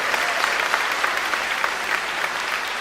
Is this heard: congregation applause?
yes